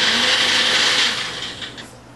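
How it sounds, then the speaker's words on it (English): A food processor pulses cut celery with a loud whirring blade burst that slowly winds down, close by, with no talk. "You put some cut celery in here and you pulse it."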